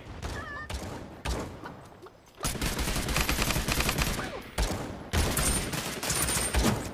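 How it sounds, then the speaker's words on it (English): Gunfire from the battle-royale video game Realm Royale, dense rapid bursts of shots filling most of the stretch with brief pauses between volleys, loud and close. "Oh, I hear shooting, so I can probably third party this."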